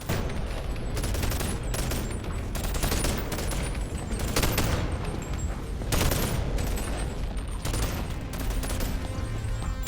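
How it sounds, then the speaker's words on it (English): Enemy gunfire in the VR game BONELAB, dense overlapping shots and bursts rattling continuously and loudly for the whole stretch, with no talk. "Now this part has like 3 or 4 people with guns, so I needed to strategically dodge and then hide to heal."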